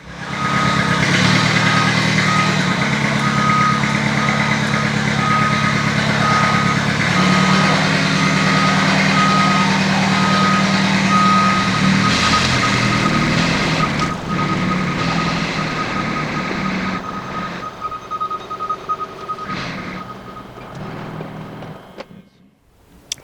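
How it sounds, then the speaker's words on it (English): A 12-valve Cummins diesel engine in a truck starts and runs outside a shop. It makes a loud, steady rumble that continues throughout and fades near the end, with a high tone running through it. "see if we can make this 12 valve Cummins run again"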